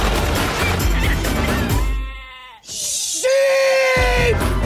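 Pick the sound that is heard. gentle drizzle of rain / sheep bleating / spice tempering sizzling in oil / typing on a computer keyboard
sheep bleating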